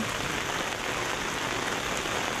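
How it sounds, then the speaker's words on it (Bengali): Steady rain pours down in a dense, even hiss that never lets up. "কিছু সময় পরে বৃষ্টি শুরু হয়ে গেছে"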